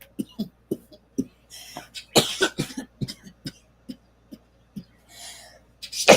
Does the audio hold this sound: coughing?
yes